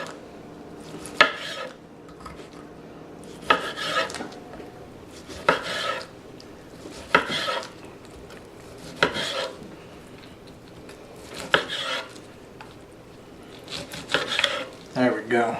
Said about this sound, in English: The knife feels really well going through them.